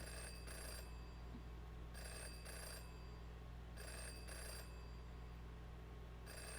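An old-style telephone bell rings inside the video game Jenny LeClue, sounding in four regular bursts over a steady low hum, fairly clear and close.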